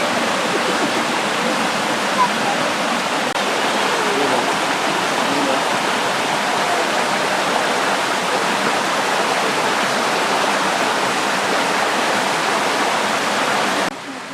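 Aber Falls in Wales roars as a steady, loud, broadband wash of falling water, unbroken throughout with no clear voices above it.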